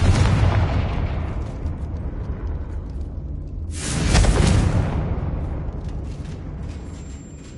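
In the Hogwarts Legacy video game, a Confringo spell goes off as a loud, close blast that swells and rumbles for about a second over an already dense, noisy battle backdrop, then fades into a lingering roar.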